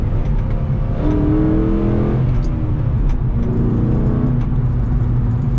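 Interior engine note of a 2007 Shelby GT with 147,000 miles while driving: a steady mid-pitched V8 drone with gentle rises in revs, continuous and fairly loud throughout.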